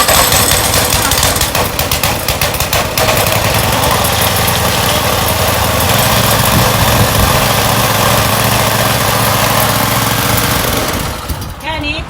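An old, hard-starting pull-start gasoline engine runs with a loud, rough, rattling idle, chugging steadily close by before tapering off at the end.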